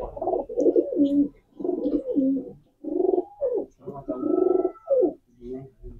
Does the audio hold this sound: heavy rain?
no